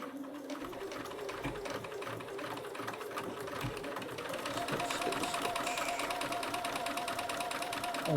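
A sewing machine stitching fabric runs in a steady, rapid mechanical chatter, its needle rhythm continuous and close, picking up slightly in pace and loudness toward the end, with no voice over it.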